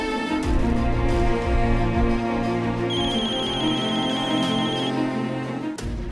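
A mobile phone left behind rings with a melodic ringtone, repeating tonal phrases playing steadily at moderate volume indoors, cutting off near the end.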